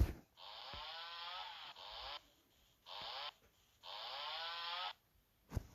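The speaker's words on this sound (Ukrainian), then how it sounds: "Пила!" A chainsaw in the video game Chicken Gun revs in four separate buzzing bursts of varying length, fairly faint, with short gaps of quiet between them.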